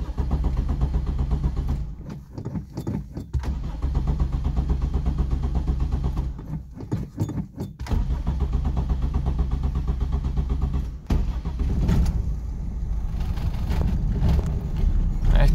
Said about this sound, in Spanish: Vamos a ver si arranca porque no enciendo este auto hace como un mes.